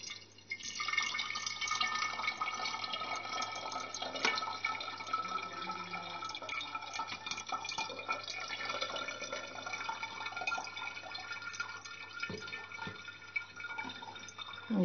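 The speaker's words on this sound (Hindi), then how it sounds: "अब हमें इस पानी को अच्छे से" Mint-infused water being squeezed through a sieve into a jug for a lemon-mint sherbet, a continuous soft trickling and dripping of liquid, close and fairly quiet, with no talking.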